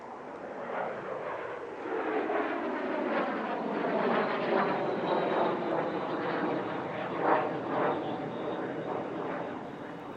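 Aircraft engines roar as a display plane pulls up in a climb at the Air Legend 2023 airshow, a loud sustained rumble swelling and fading with shifting pitch overhead.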